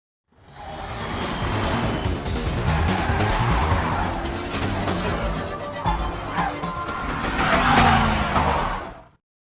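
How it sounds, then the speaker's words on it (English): Cars skid and crash during a movie car chase, with sustained tire squeal, engine roar and scraping impacts running loud and continuous for about nine seconds, swelling again near the end. "Finally, the car chase continued."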